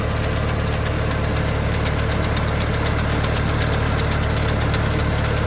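A 40-horsepower tractor engine idles steadily at low revs while powering a log splitter, a continuous rumbling drone with a faint rhythmic knock, close by and unbroken throughout.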